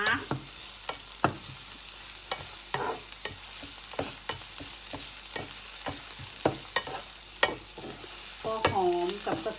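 Shallots and garlic fry in a pan with a constant close sizzle, punctuated by frequent sharp spatula clacks and scraping strokes against the pan at an uneven rhythm.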